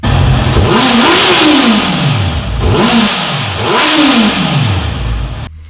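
A Honda CB650F motorcycle engine revs hard three times in a row, each rising whine climbing and falling back, loud and close with no talk.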